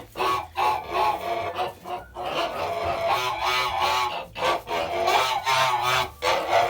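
Noisy, busy poultry sounds: Kholmogory geese and hens honking and clucking over each other as the geese are caught and handled, with scuffling throughout, no voices.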